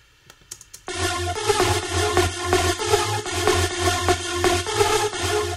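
A few soft clicks, then a bright, wide, detuned chorus-like synth saw lead in Sylenth pulses in a steady rhythmic pattern over a low bass, loud and close.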